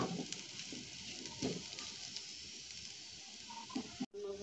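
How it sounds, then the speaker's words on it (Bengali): Potatoes and onions fry in a pan with a steady, soft sizzle and hiss, faint and continuous, broken by a few light stirring scrapes and a brief cut near the end. "পেঁয়াজগুন দিলাম দিয়ে আমি আরো 1 মিনিট ভাজবো আলুগুন করে"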